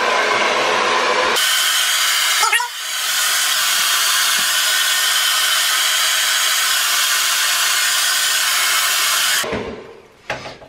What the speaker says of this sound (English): pretty much blow dry your hair